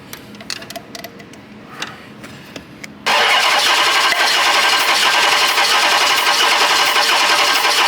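A 2013 Dodge Charger's 5.7 Hemi engine with a misfire cranks during a compression test on cylinder 3. After a few seconds of faint ticking and clicks, a loud, steady, close-up cranking roar starts abruptly and runs continuously to the end.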